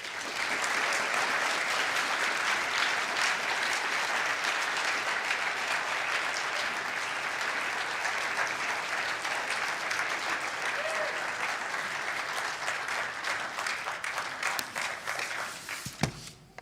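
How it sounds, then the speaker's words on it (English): A crowd at an evening author reading in Tucson welcomes Luis Alberto Urrea with loud, dense, unbroken applause that carries on for over fifteen seconds before tapering off abruptly. "Everyone, please give a warm round of applause for Luis Alberto Urrea."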